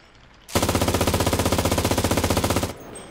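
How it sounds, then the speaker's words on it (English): A rapid automatic burst of video game gunfire rattles out loud and close, a dense even string of shots lasting about two seconds before stopping abruptly, with no talk over it. "Nah, I was shooting."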